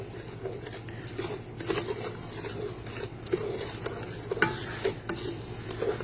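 Rice for Spanish rice is stirred as it browns in a hot pan, a continuous scraping, rustling stir over a soft sizzle with small irregular accents.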